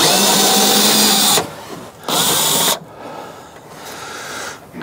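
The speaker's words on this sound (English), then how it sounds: "Got a little silver Torx bolt just there that we need to undo, and that will release the handle" A power tool whirs loudly in close bursts while undoing a small silver Torx bolt on a Land Rover Discovery door handle, running steadily, stopping, then revving again briefly before falling quiet.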